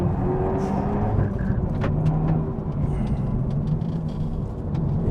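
Engine of a Renault Megane Trophy R hot hatch rumbles loudly and steadily from inside the cabin while downshifting, with a deep continuous drone and no talk.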